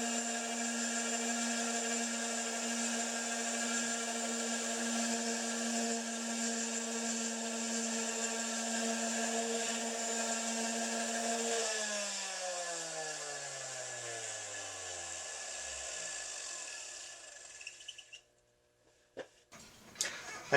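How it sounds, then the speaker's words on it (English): A power sander works a wooden board with cracks in it, giving a steady, high motor whine that then winds down in falling pitch to a stop, followed by a few knocks. "The next step is to sand the board."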